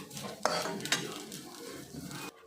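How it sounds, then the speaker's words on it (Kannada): Grated coconut fried with tamarind and garlic in a pan for chutney, quiet sizzling under a few sharp metal scrapes and clinks of a spatula, close up, ending abruptly, with no speech. "ಈ ಕೊಬ್ಬರಿಗೆ ಸ್ವಲ್ಪ ಹುಣಸೆಹಣ್ಣು ಸ್ವಲ್ಪ ಬೆಳ್ಳುಳ್ಳಿ ಇಷ್ಟನ್ನು ಹಾಕ್ಬಿಟ್ಟು ನೀಟಾಗಿ ಫ್ರೈ ಮಾಡ್ಕೊಳ್ಳೋಣ"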